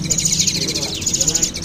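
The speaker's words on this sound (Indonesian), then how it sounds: "Di sini juga ada burung jalak suren anakannya" Bright, repeated chirping calls from several Asian pied starling chicks at a bird market stall, close and continuous, with a murmur of voices and background noise underneath.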